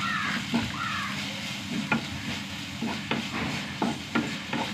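Turmeric and coriander powder frying with tomatoes in a pan, a steady close sizzle broken by several sharp clicks of a spoon scraping and tapping the pan.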